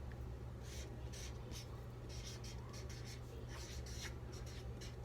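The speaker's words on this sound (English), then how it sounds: "So let me write that down." Pen or pencil scratches by hand across paper, faint close scribbling strokes in short bursts over a low steady background hum, with no talking.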